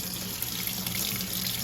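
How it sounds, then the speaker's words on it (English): Water gushes through a dash-10 oil return fitting hole on a 2JZ engine build, a steady, strong rushing splash like a running tap, with no talking. "All that water shooting that hole."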